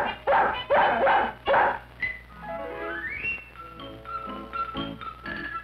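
A cartoon dog character barks three times in loud, close bursts, then lets out a rising whine followed by softer yips and whimpers.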